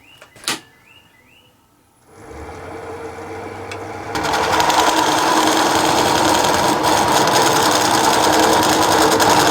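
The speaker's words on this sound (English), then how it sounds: "I will use this diamond tool because it works pretty well and go close to the center" A diamond tool cuts a redwood burl platter on a woodturning lathe: after a quiet start and a brief knock, a steady motor hum builds, then a loud, dense, continuous cutting hiss takes over and holds.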